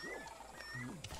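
A low rumbling stomach growl in the prehistoric survival game Ancestors: a short, faint, wavering guttural rumble like a big cat's growl, with a few tonal swoops, lasting about a second.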